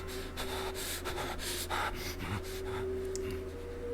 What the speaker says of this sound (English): I don't like this man's heavy breathing.